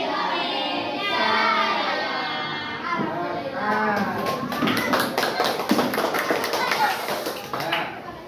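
A group of children chants together in a classroom, then claps hands in counted rhythmic bursts of sharp taps under and between their voices.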